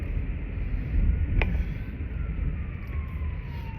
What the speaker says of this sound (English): There's a ambulance coming around.